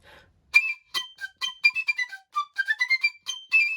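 Bright, high piccolo playing a quick run of short detached notes, rising and falling in pitch with brief gaps between them, heard alone and fairly clear in a quiet room.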